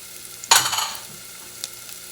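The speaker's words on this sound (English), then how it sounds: "First thing I'm going to do is I'm going to add the onions." Chopped onions drop into a preheated pan for Puerto Rican sofrito, setting off a sudden loud sizzle at about half a second that fades over the next moment, with a faint brief crackle later.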